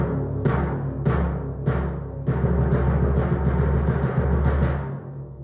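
Deep timpani notes struck and sustained, pitch bending downward as the pedal is pressed with the heel, several booming rolls and strokes resonating closely with a warm, bass-drum-like tone.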